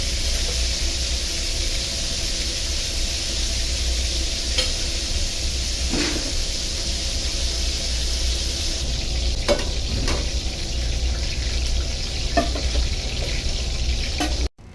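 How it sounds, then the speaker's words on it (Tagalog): Pork belly liempo browning in a hot pan, a loud continuous sizzle and spatter with intermittent stirring and scraping sounds, close up and without talk. "Kailangan ko lang i-brown yung buong outer part ng ating karne."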